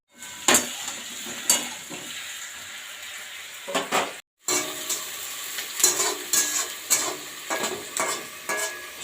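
Onion fries in a pot while a spoon stirs it, giving a steady close sizzle broken by scraping strokes and clanks against the metal. There is a brief gap midway, then busier stirring follows, and no one talks.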